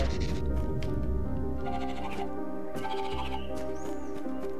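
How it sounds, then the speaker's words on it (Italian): Sheep in the pixel-art platformer Narita Boy give short bleats over the game's steady synth music, the animal calls mid-level and mixed into the score, with no talking. "Ci sono le pecore qua."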